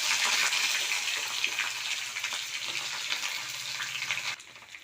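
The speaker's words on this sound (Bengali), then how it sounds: "এখানে ডাঁটা আলুটা ভাজা হচ্ছে ফোড়নের সাথে, তেজপাতা, শুকনো লঙ্কা, জিরের সাথে" Potato stems fry in hot oil with cumin seeds, dry red chilli and bay leaves, giving a steady, bright, close sizzle that hisses continuously before cutting off near the end.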